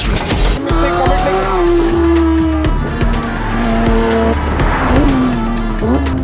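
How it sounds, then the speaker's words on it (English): A naturally aspirated 4-liter GT3 race car engine howls close by in the desert, its pitch rising and dropping through gear changes, with tire squeal and a voice talking over it. "The sound of a naturally aspirated 4-liter engine."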